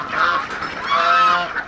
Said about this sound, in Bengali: এক ঝাঁক হাঁস,